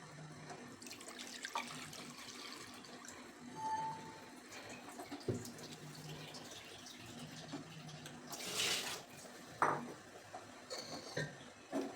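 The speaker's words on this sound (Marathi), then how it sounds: "हळू आपल्याला वरचं पाणी काढून घ्यायचे" Water being poured off soaked semolina (rava) in a kitchen, a quiet trickling and splashing with faint clinks of a vessel, a louder gush near the end.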